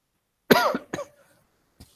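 A lecturer coughs twice in close succession, loud and near, followed by a tiny throat noise, with silence around it.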